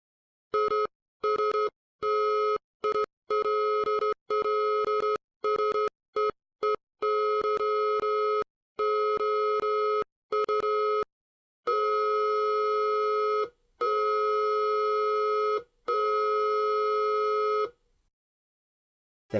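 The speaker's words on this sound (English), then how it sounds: "We get more Morse code." Morse code beeping tones pulse in short and long electronic beeps of a steady pitch, loud and clear, with irregular gaps between them and a final long tone before silence.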